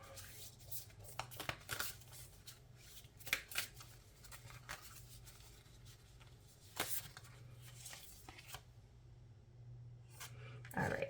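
Tarot cards are shuffled and picked in a quiet room, with soft, intermittent riffling and sliding bursts, light taps and brushing sounds over a low hum.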